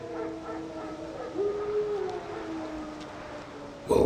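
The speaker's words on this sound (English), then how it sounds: "Wolves? No. Wild dogs." Wild dogs howling in The Witcher 3, drawn-out wavering howls that rise and fall at a moderate distance over a low ambient rumble, with a brief louder burst at the very end.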